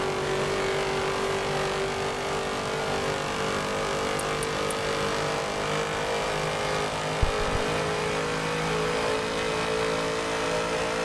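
Stock race cars circling Homestead with a steady, continuous engine drone at moderate distance, droning on evenly without clear pass-bys.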